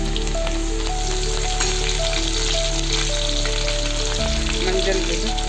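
Garlic sizzles in hot oil in a pan, a steady close frying hiss with crackles running throughout, no talk, while Tamil masala puri curry is cooked.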